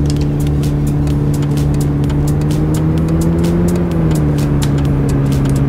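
A Toyota Camry shifted into drive and pulling away, a steady low engine hum that rises slightly in pitch near the middle before settling, with road noise and light ticking over the top and no voices.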